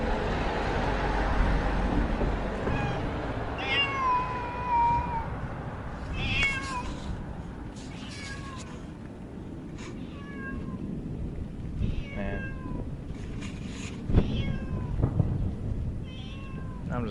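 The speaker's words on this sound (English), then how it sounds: "he has another cat over there" A stray cat meows repeatedly outdoors in a street near the Gaza border, short rising and falling cries spread across the stretch over steady traffic rumble, fairly close and clear.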